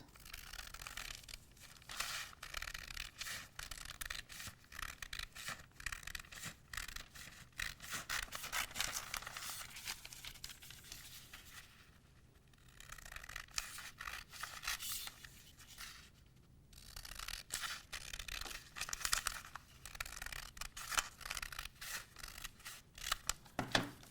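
Scissors snip and slide through a paper pattern for a Cuban-style collar, producing quiet, irregular crisp cuts and rustles close by with no voices.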